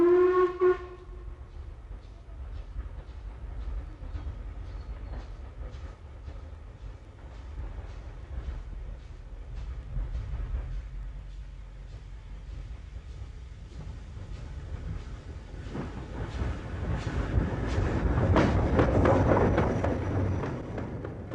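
British Railways Riddles 2-10-0 steam locomotive gives a short whistle blast at the start, followed by the low rumble and chuffing of the engine running at moderate distance, building louder toward the end.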